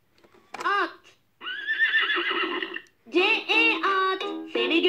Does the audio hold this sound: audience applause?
no